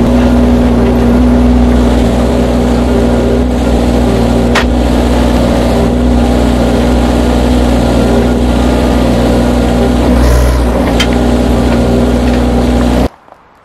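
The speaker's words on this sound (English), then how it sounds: "So we're going to scrape some with the excavator." An excavator's diesel engine drones loud and close in a steady hum while it scrapes the ground for log patio pavers, with a few faint clunks mixed in before the engine noise cuts off abruptly.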